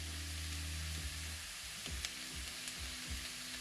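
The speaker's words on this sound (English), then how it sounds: "Now I'm adding it all to the pan here, and we're just going to stir fry this a bit" A jalapeno pepper sizzles as it is stir fried in a pan over medium-high heat. A soft frying hiss runs beneath a few short scraping stir strokes near the end.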